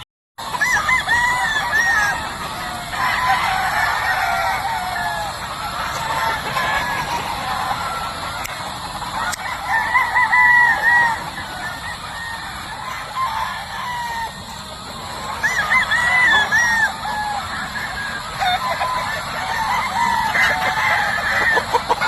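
Gamefowl stags and roosters crow repeatedly across a farm, several loud calls overlapping at varying distances amid constant clucking and a steady hiss of background noise.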